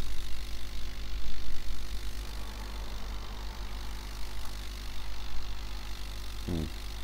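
A small tractor engine in Farming Simulator 2011 putters along in a steady, moderately loud drone, with a brief sliding tonal sound near the end.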